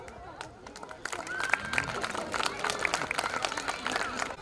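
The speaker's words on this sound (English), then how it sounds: "Let's welcome these energetic mummies with a great round of applause" Graduation-day audience applauding as mothers of kindergarten students are welcomed, scattered claps building after a quieter start into busier clapping mixed with crowd noise and nearby voices.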